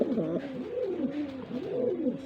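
Large pigeons cooing inside their cage at a breeding farm, a few rounded, wavering low coos in close succession, near and clear.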